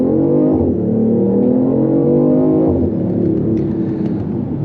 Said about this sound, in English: let's try a 0 to 60 run in sport mode if we can here